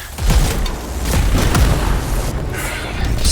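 Grenades explode in the shooter video game Anthem, dense booming blasts rolling into each other with deep rumble and crackling debris, loud and continuous.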